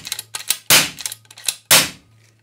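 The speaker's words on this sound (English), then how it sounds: "And let's do a couple of shots." An RTI Arms P-3 air rifle fires two sharp, loud shots about a second apart. Smaller clicks and taps of handling the gun fall between them, with a faint steady hum underneath.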